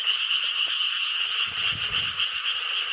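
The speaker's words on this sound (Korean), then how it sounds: "개구리 소리가 엄청 많이 시끄럽게 들리네요." Many frogs croak together in a loud, continuous chorus, with a faint low rumble passing underneath partway through.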